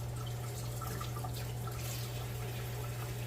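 A paintbrush is rinsed with soap and water at a sink after sealing a diamond painting on canvas, giving a faint, steady trickle and drip of running water over a low constant hum, with no talking.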